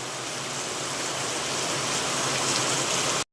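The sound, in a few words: heavy rain falling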